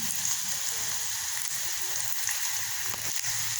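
Chopped onion sizzles steadily in hot oil in a home kitchen pan, a continuous close crackling hiss with no pauses.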